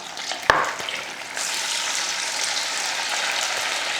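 Marinated pepper chicken 65 dropped into hot oil gives a brief clack, followed by a steady, close hiss of frying that carries on unbroken.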